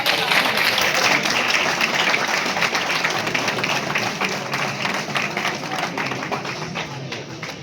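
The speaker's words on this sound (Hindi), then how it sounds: "इसी के साथ उनके लिए जोरदार तालियां होनी" A hall audience at a B.Sc. IT website and app inauguration claps loudly for an assistant coordinator, a thick, rapid patter of many hands that stays strong and slowly fades toward the end.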